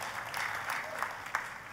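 Church congregation applauding during a sermon, a short burst of steady, fairly faint clapping with a few sharper claps standing out, no talk over it.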